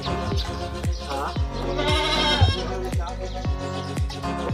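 Goats on a breeding farm bleat in a long, quavering call near the middle. Sharp, regular clicks and faint voices run throughout.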